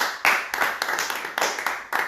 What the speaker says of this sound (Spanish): Démosle un aplauso fuerte al Señor esta noche, hermanos